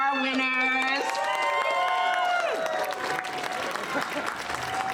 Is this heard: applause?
yes